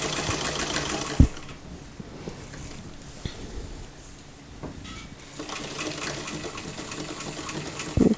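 A sewing machine stitches a tucked day dress right to a corner point, its steady mechanical whir running through most of the clip, with a sharp click just after one second and the motor picking up again near the end, no voices.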